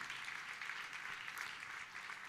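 Congregation applause during a church service, a steady dense clapping from many hands that holds at an even, fairly loud level throughout with no voices on top.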